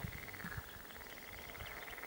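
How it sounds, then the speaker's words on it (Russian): Faint frogs croak in a distant chorus by the Uday River, with a steady high insect-like trill running throughout over quiet outdoor ambience. "Дайте жаб послушать."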